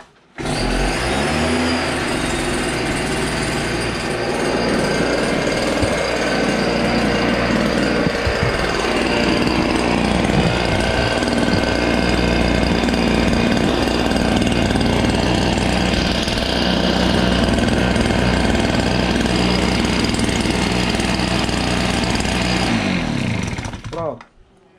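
A motorized backpack sprayer engine, Stihl or Buffalo, running at high throttle with a loud, steady buzzing drone close by, its pitch shifting slightly before cutting off at the end.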